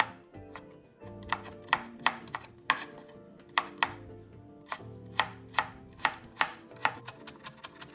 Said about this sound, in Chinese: 最后再剁几刀，让这胡萝卜丁稍微细一点